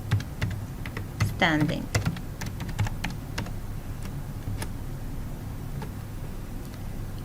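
Typing code on a computer keyboard, a run of close, irregular key clicks and taps that continues throughout, with a brief stretch of talking partway through.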